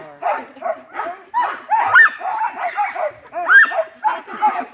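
A pack of excited sled dogs at a summer sled dog camp in Juneau bark and yip continuously and close by, a dense overlapping chorus of high-pitched yelps and whines with no pauses.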